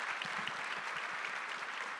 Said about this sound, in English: yes, a round of applause, please.